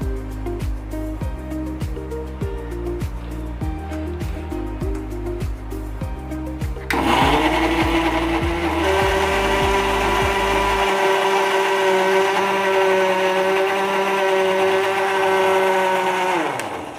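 A kitchen mixer grinder blends banana stem into a paste for an Assamese khar curry: a loud, steady whirring motor roar with a jolt partway through as the pitch shifts and the blades bite, running continuously with no talk.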